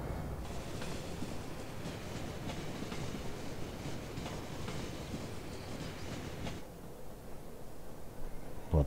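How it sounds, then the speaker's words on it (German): A tram rolls past in a snowy Cities: Skylines city, a steady close rumble of wheels on rail with faint clatter that holds for most of the stretch and then eases off near the end. "Da kommt eine Tram."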